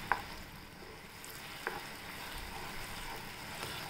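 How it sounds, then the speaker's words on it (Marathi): Ground green masala paste for a paneer gravy fries in oil, a steady, even sizzle with a couple of faint stirring clicks, close and continuous without any voices. "आता हे आपण सगळं हे वाटण आहे ना, तेल सुटेस तोपर्यंत तेलात परतून घ्यायचं"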